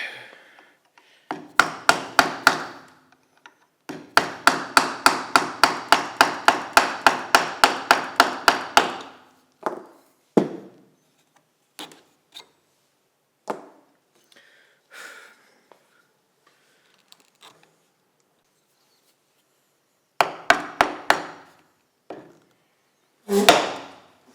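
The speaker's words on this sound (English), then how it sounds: "So whenever I tap it with my mallet, I always make sure I got my hands on top of that fore-end iron to keep it held down." A wooden gun stock on a custom A.H. Fox shotgun being tapped with a mallet during inletting, giving rapid runs of sharp, close knocks, then scattered single taps and short clusters with long pauses between.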